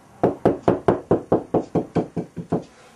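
Knuckles rap on a hollow cavity wall while searching for a stud, about a dozen evenly spaced close knocks with a slight change in tone along the run.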